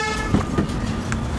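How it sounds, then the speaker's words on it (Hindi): A 2021 Hyundai Venue SX compact SUV with a 1.0 turbo petrol engine gives short horn beeps on unlocking, with brief toots over a steady tonal background hum. "जब आप अनलॉक करोगे तो दो बार हॉर्न बीप करेगा"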